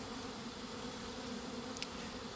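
Honey bees buzz steadily around a hive in late summer while foraging on goldenrod, a dense continuous drone with a faint brief tick near the end.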